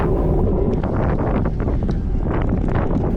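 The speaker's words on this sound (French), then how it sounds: "avec un petit vent" Gusty wind buffeting the microphone in a low, rumbling roar at a cyclo-cross race, steady and loud throughout, with no talking.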